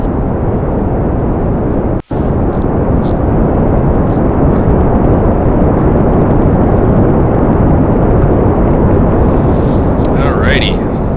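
Rocket engines roar at liftoff in Kerbal Space Program, a loud, steady broadband rumble that holds for the whole stretch and drops out only once, briefly, near the start.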